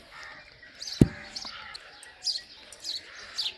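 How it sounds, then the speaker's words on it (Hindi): Sparrows chirp in short, high, scattered bursts at moderate distance, with one sharp thud early on and faint background noise between the calls. "हाँ मैंने चिड़ियाँ की आवाज़ बड़ी सोहनी लगती है"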